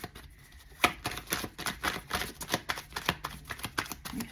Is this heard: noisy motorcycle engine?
no